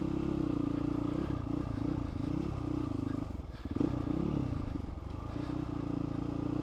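A motorcycle engine hums steadily at low gear while descending a slippery, wet, leaf-covered forest track, with a brief dip and surge midway and light clatter over the ground.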